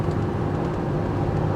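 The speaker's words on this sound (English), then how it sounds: "I have kicked the accelerator pedal. Listen to the engine." A Toyota Fortuner Legender 4x2 automatic SUV accelerates hard at highway speed, a steady low engine drone heard from inside the cabin with road noise underneath.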